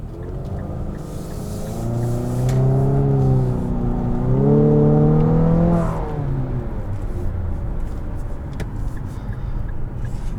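A 2021 Infiniti QX50 Autograph engine revs up, its steady drone climbing in pitch and then falling back, heard close and loud over a constant background hum.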